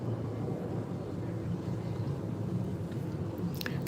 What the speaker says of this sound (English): Excuse the plane overhead